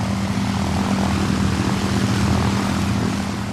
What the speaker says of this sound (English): The sound of 4 Merlins is something which is beautiful.